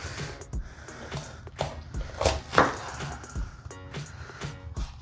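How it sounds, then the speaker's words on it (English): A knife chops through a pepper on a cutting board while a Cajun chicken sloppy joe is prepared, giving a run of sharp, close, irregular cutting knocks. "we're just gonna go ahead and start chopping up this pepper"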